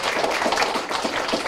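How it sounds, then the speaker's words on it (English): Audience applause for a young volunteer who has just come up on stage at a library summer reading kickoff show, steady dense clapping from a room of people filling the whole moment. "give Madison a big round of applause"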